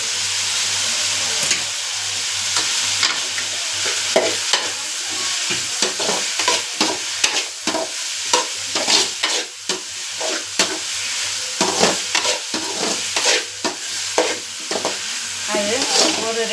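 Chicken frying in a pan while being stirred, a steady sizzle broken by frequent scraping and clattering strokes of a spoon against the pan, close and continuous.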